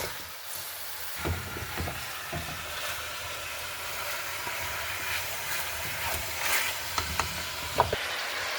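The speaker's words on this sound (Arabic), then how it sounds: "هذا لسه نحمسه ونرجع لكم" Chicken for a rice-and-chicken stew sautéing in a pan, a continuous hiss and sizzle with occasional soft stirring scrapes and clicks, close and fairly quiet.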